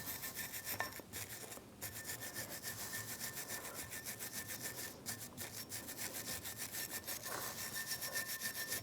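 Rust is scrubbed off the front brake surface of a 2015-2024 Jeep Renegade in quiet, continuous back-and-forth rasping strokes, with a couple of short pauses and no speech.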